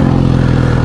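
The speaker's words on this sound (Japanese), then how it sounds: "ではね、エンジンかけてみたいと思います。" A Kawasaki Z900RS motorcycle fitted with a K-Factory full exhaust idles just after starting, giving a brief, loud, close, steady low mechanical throb.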